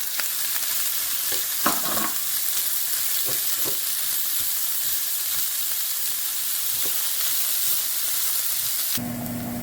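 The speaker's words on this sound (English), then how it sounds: "now we're going to add our onions into our hot oil. We're going to fry these up nice and brown" Three finely chopped onions fry in hot oil with a constant broad sizzle, close up, while occasional spoon scrapes and stirs break through; the sizzle cuts off abruptly near the end.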